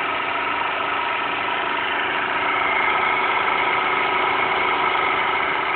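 A Newman motor replica, a homemade radiant-energy device with a flashing neon bulb, runs steadily with a continuous even hum and whine that stays close and constant throughout, with no talking.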